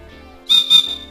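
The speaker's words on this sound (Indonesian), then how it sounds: "itu peluit untuk kita" A small plastic safety whistle built into a Consina Traverse 70+10L backpack is blown twice in quick succession, two short shrill close-up blasts over faint background sound.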